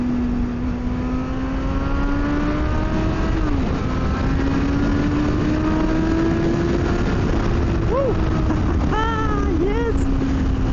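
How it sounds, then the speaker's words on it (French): A 2000 Yamaha FZS 600 motorcycle on the move carries a smooth engine tone that slowly rises, dips and swells, then jumps into sharp rev spikes near the end, with wind noise throughout. "J'adore le son de cette moto."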